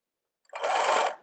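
A sewing machine stitches through tutu netting near a leg elastic, giving one short, close whirring run of rapid needle strokes that starts abruptly and stops after about half a second.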